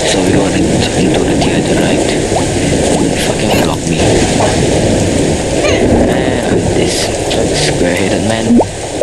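Steady heavy rain with rumbling thunder in the video game BattleBlock Theater, a dense continuous downpour that stays loud throughout with occasional surges, heard alone without talk.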